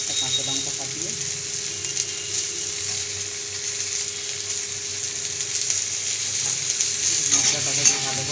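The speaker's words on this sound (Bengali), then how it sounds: "মশলাটাকে দিয়ে ভালো করে কষে নেব" Spice masala of turmeric, chilli powder and green chilli sautéing in a pan for a prawn curry with chickpeas and potatoes, a steady close sizzle with light stirring throughout.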